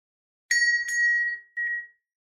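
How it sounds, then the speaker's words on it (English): Alarm bell sound effect added in Canva: two quick bright rings, then a third shorter ring, clear metallic tones decaying in silence. "this alarm bell is still going to sound off"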